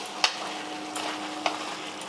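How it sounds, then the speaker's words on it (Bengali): A spatula stirs a black mustard seed tempering in a pan for besar, a Rath Yatra temple offering, giving three brief scrapes over a soft, steady sizzle. "ফোড়ন দেওয়ার পর একটু নেড়ে দিচ্ছি"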